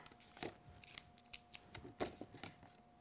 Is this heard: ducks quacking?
no